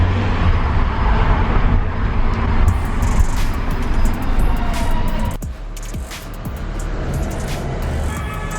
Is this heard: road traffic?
yes